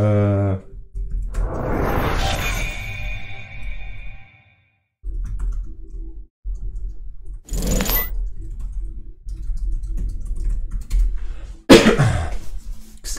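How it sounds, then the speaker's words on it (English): A couple of harsh coughs break up a quiet stretch with soft tapping and background hum, one early and one near the end. "Excuse my cough."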